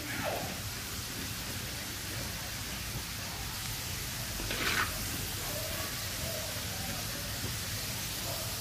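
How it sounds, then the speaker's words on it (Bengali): Small potato pieces fry in oil, giving a continuous soft hiss and crackle, close and steady, with one brief louder burst midway. "সবার আগে আমি আলুটা ভেজে নিচ্ছি তেলে"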